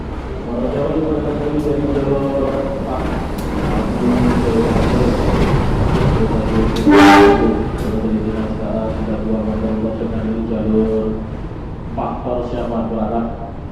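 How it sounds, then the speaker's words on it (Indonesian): The Manahan passenger train rolls into platform 3 at Cirebon station from the Jakarta direction with a loud, continuous engine drone and rumble. A short horn-like blast comes partway through. "ini dia kereta api Manahan telah tiba di stasiun Cirebon"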